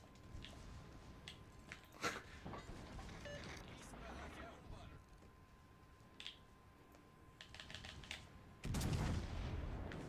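Secondary guns firing in the World of Warships Legends naval battle game, scattered sharp gunfire bursts and booms with a heavier blast near the end, under a player's talk.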